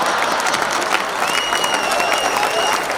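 Applause from an audience at a Hindi kavi sammelan, a comedy poetry gathering, comes as a steady, dense wash of clapping that stays close and loud for about three seconds, with crowd noise mixed in.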